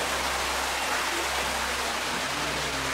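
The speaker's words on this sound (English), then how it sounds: "Here's the waterfall. So this is where the water flow in the cave comes down." A waterfall inside a large cave, where the underground stream pours down, gives a steady, dense broadband rush with no pauses. It sounds close and fairly even in level, with no voices.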